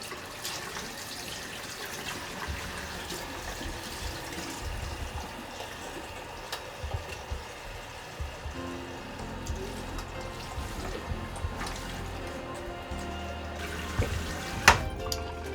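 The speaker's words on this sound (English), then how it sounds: "Alright, so I just finished rinsing it out." Tap water runs steadily from a faucet while hair is rinsed in a sink during a flat twist set on damaged hair, a continuous close splashing wash with small drips and knocks and no talking.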